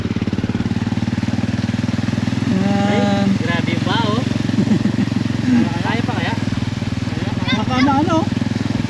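A motorcycle engine runs steadily and close by in a rural Philippine setting, with a constant low rumble throughout and people talking over it.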